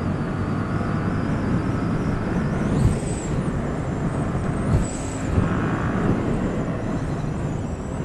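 A 2015 Yamaha FZ-07 motorcycle accelerating on a highway, steady broadband engine and wind roar held at a constant level for the whole stretch, with faint rising whines at a couple of points and no talking.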